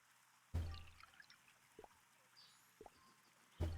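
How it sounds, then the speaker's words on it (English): Tea poured into a teacup in a Nancy Drew video game: a quiet game sound with three short splashing bursts at the start, middle and end, separated by faint trickling and low room tone. "The resulting tea must be poured into a teacup and promptly served."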